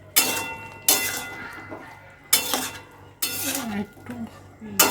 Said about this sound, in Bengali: আমি 2 মিনিট পরে আবার একটু নাড়াচাড়া করে দিচ্ছি।